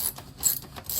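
A 1/2 inch ratchet wrench clicks in short bursts while loosening fasteners on a swimming pool DE filter, heard close up as a few quick ratcheting strokes.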